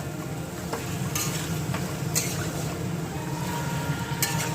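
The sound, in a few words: stir-frying yogurt chicken with potatoes in a pan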